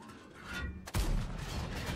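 A single loud, close cannon blast from an Objekt 268 tank destroyer in World of Tanks hits sharply after a low engine rumble, then rolls into a sustained booming echo.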